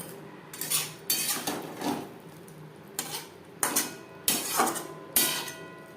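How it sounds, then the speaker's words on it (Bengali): Small mourola fish being mixed into curry gravy in a pan, a series of spaced metallic scrapes and knocks of a spoon against the pan over a low sizzle, close and with no talking. "মাছ বেশ ভালো করে মিক্স করে দেব।"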